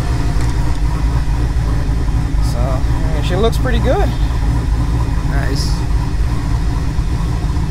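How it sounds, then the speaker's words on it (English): A Nissan 300ZX with an LS engine swap idles steadily near 800 RPM in its first start of the season, a constant low rumble running throughout under nearby conversation. "It's idling right around where it should be"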